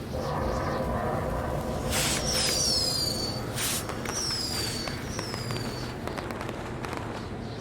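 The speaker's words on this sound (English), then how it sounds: "we'll get to see some cool fireworks" Fireworks in the WWE 2K20 video game: several whistling rockets climb in pitch between sharp crackling bursts, heard over a steady rumbling background with no talk.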